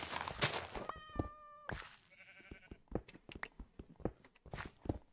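A Minecraft cat gives a short meow in the game, followed by a brief bleating sheep-like call and soft blocky footsteps, fairly quiet with no talking.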